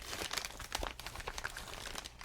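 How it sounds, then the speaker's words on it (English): Thin plastic wrapping on a hairbrush crinkles close up in quick irregular bursts, crisp and quiet, with no one talking. "Oh hey, some more crinkling that can happen. Or wrapping on the brush itself."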